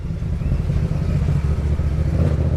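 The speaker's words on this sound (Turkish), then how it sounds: "motor şu an çalışıyorsa Oğuzhan sayesinde" A Yamaha MT-07 motorcycle engine runs steadily at idle, with a constant low rumble and slight mechanical clatter throughout, close and alone with no talk.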